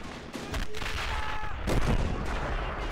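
Explosions and gunfire in a WWI trench-warfare game set at Bois le Prêtre in 1915, a heavy booming blast among scattered shots, loud and close, with no speech.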